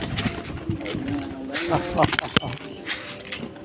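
Domestic pigeons coo close by at a feeding spot, soft rolling calls rising and falling over several seconds while a person talks over them.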